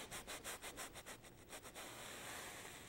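A paintbrush scrubs paint onto a surface in quick, rhythmic rasping strokes, about a dozen close, soft swishes that fade into a duller continuous rub.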